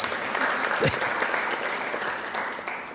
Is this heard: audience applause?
yes